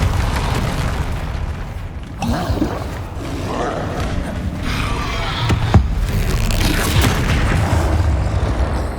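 Repeated Confringo and Repulsor spell blasts in Hogwarts Legacy, loud booming bursts layered over constant game combat noise, with a sharp crack near the middle.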